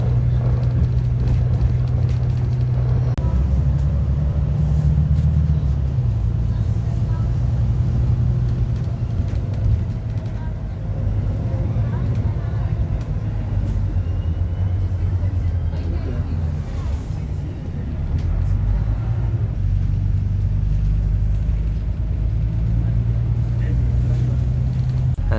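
Inside a Volvo Gemini 2 double-decker bus on route 271, a steady low engine rumble and road noise fill the cabin, swelling and easing with the ride.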